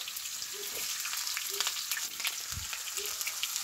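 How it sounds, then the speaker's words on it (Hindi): Onions sizzle in hot oil for a dal tadka, a steady close crackle and hiss with a few soft knocks of utensils. "तेल वगैरह सब गर्म हो गया हुआ है इधर, तो प्याज डाल दिया"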